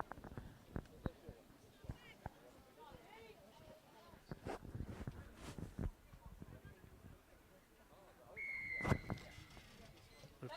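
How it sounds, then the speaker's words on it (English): At a women's rugby match on Avatiu Field in the Cook Islands, a referee's whistle sounds one sharp blast near the end, following a stretch of crowd noise, thuds and commentary. "Blows his whistle, the kick-off there by Stephanie for the Bears"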